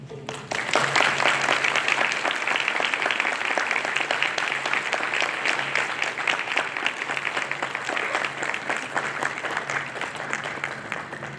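A graduation reception audience gives a sustained round of applause for honors college graduates, steady and full for over ten seconds at moderate distance, with no one speaking over it.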